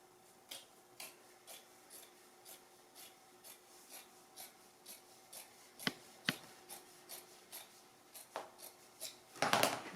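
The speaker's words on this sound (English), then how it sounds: "I'm just going to cut along this seam." Scissors cut along the seam of old denim jeans in a slow, regular series of crisp snips spaced about half a second apart, close and quiet, ending with a louder rustle of fabric.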